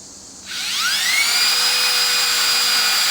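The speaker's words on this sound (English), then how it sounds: "drill a little pilot hole in it this time" A power drill boring a pilot hole in wood for a quail cage spins up with a rising whine, then holds a steady, loud, high-pitched drone up close.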